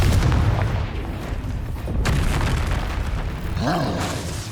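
Bombarda explosion spell from Hogwarts Legacy: a loud, close boom with a rumbling decay, followed by further bursts and crackling, with no voices.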